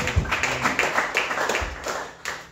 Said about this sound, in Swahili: piga kwa Yesu makofi